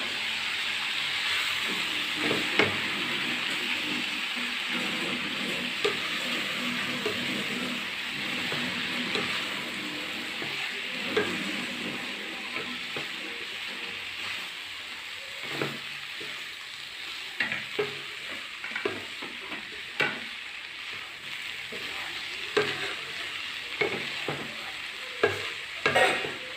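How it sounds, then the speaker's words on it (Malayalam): Chicken sandwich filling of boiled chicken being stirred and fried in a pan, a steady sizzle with scraping spatula strokes and occasional clacks over a continuous hiss, close and alone. "അത് ഞാൻ ഇതിനകത്തേക്ക് ഇട്ട് കൊടുക്കണം. എല്ലാം കൂടി ഇട്ട് മിക്സ് ചെയ്യുക."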